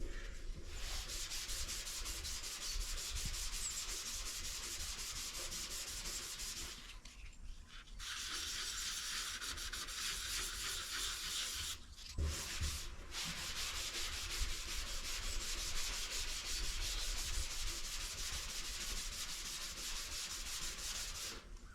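Hand sanding the epoxy-sealed hood of a 1941 Chevy truck restomod with 600 grit sandpaper, a loud continuous rhythmic rasping rub with two brief pauses, no talk.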